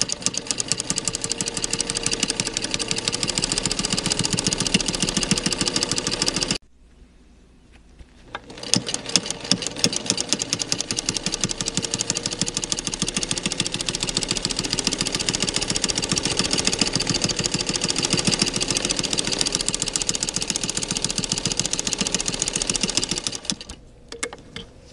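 Domestic sewing machine stitching a quilted circle onto a five-layer surgeon-style fabric mask, a steady rapid needle clatter running loud and continuous, with a brief pause partway through before the stitching resumes.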